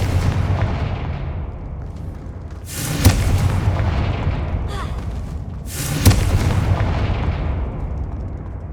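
Confringo spell blasts in the video game Hogwarts Legacy, two loud booming explosive bursts a few seconds apart over a continuous rumbling game soundscape, with a brief spoken spell call.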